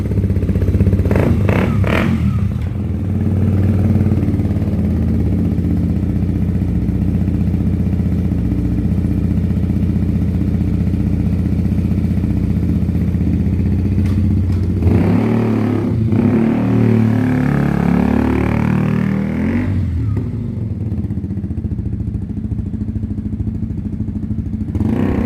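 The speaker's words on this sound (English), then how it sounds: "KTM 125 2020 with a Black Widow exhaust." A 2020 KTM Duke 125 with an aftermarket Black Widow exhaust idles and revs close up for about twenty-five seconds, a steady loud engine note swelling into sharper throttle blips near the end, without speech.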